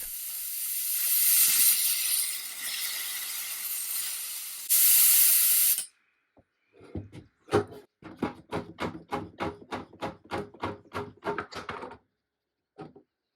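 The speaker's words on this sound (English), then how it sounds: "To soften the glue, I used my steamer and that did the trick" A steamer hisses loudly and steadily against old glue on a broken wooden stool, then cuts off, followed by a rapid series of sharp knocks and taps.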